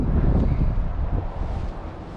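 Wind gusts buffeting a microphone outdoors beside a river during winter fly fishing, a dense low rumble that swells and eases across a couple of seconds, close and fairly loud with no talking.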